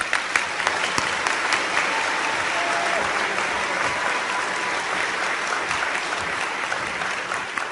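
Sustained applause from an awards-ceremony audience at a waste-industry conference congratulating winner Nancy, a dense, steady clapping of many hands lasting throughout at an even, fairly loud level.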